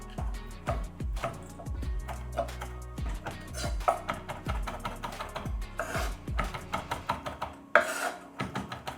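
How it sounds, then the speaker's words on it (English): Fresh basil being chopped with a knife on a cutting board, a quick run of sharp, close knocks in uneven bursts, some faster flurries and a louder clack near the end, with no talking. "Chop it up."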